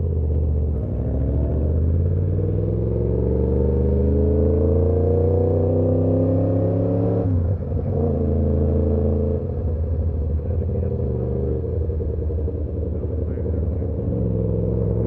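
A motorbike rides a mountain route toward Murree, its engine droning loudly and steadily with rising and falling pitch as it shifts and climbs, wind rumble underneath, and no speech.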